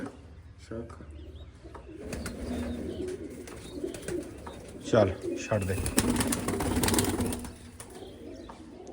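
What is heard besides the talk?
pigeons cooing and flapping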